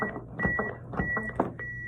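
Steady electronic beeps from an AED defibrillator pacing CPR compressions at roughly a regular pace, a tone around two per second, over muffled background thumps and rustling.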